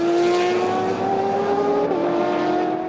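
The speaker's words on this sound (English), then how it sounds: "GTE battle with the P2 cars coming through." LMP2 prototypes and GTE cars racing past at Le Castellet during a four-hour endurance race, engines loud and close with steady high-revving drones and a slight pitch shift as they pass, no talk.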